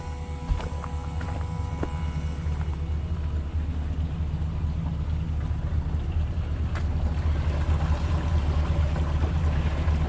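A water pump runs steadily after its valve is opened, a continuous low droning rumble with a faint whine, close and unbroken for the whole stretch, with no talking.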